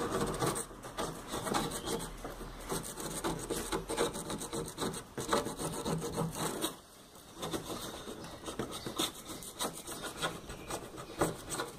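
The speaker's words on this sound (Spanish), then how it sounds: "Y vamos a sacarle el óxido." Steady, harsh scraping of a tool grinding rust off metal, continuous and close, with a brief lull partway before the rasping resumes.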